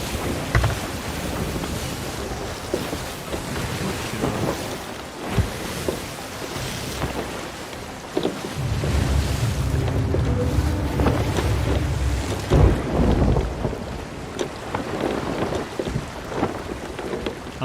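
A ship in the pirate game Sea of Thieves sails through a storm, with continuous rain, crashing waves and thunder rumbling heavily, and a deeper surge of rolling noise midway, no speech.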